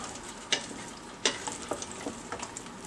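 A spoon stirs apple pie filling in a pot, giving a few sharp scraping knocks against the pot over a steady bubbling, sizzling background, close and fairly loud.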